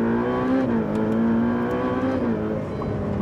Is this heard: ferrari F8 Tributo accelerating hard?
yes